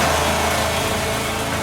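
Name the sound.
car engine running with a penny in the carburetor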